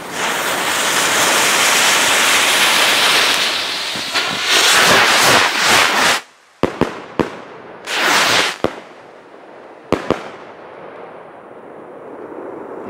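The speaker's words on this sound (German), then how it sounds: "Richtig schöne Salutraketen von Funke. Direkt wieder in Masse gezündet." Funke salute rockets, 20-gram New Year's Eve fireworks, launched en masse: a dense, loud roar of hissing and crackling for about six seconds, then a scatter of sharp, separate bangs and fizzes trailing into a quieter hiss.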